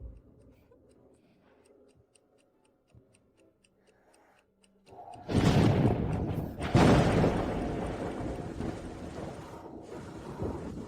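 Heavy rain with thunder: after a quiet start with a faint ticking clock, a loud rumble of thunder breaks in and a dense roar of downpour continues strongly to the end.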